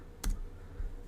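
A single crisp computer mouse click, near and fairly loud, followed by a softer faint click a moment later in a quiet room.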